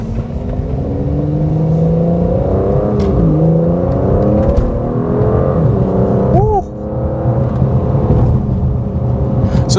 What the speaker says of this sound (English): we'll go ahead and wake up that V12 a bit